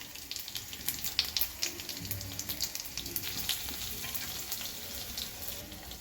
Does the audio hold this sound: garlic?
yes